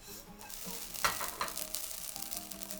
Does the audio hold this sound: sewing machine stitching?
no